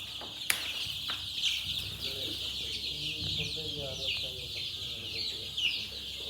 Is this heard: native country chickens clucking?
yes